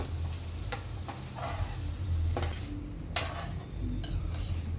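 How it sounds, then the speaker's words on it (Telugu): Kara boondi fries in hot oil with a soft, continuous sizzle, and a utensil clicks and scrapes against the pan at irregular intervals. "ఇలా వేసుకున్న తర్వాత ఈ విధంగా వేయించుకోవాలి"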